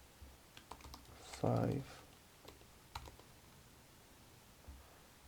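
A handful of sharp keystroke clicks on a computer keyboard spread across a few seconds, with one louder burst in the middle as a voice speaks briefly over the quiet typing.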